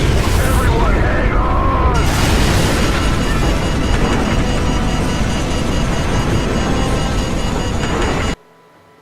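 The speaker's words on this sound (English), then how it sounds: "He detonated the nuke." A nuke detonates in Call of Duty: Modern Warfare with a massive roaring blast that rumbles loudly for several seconds, voices mixed in, before cutting abruptly to near silence.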